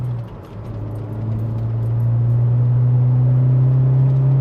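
A VW Mk4 with a 1.8T turbo engine, its diverter valve just replaced, revs up under boost, a loud close drone that rises and then holds steady with no fluttering.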